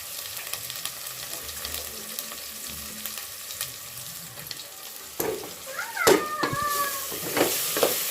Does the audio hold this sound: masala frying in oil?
yes